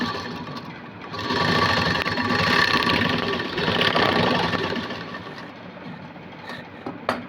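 A sewing machine runs close by, stitching fabric for aari embroidery work in a steady mechanical whir that swells and eases over several seconds before stopping, with no voices.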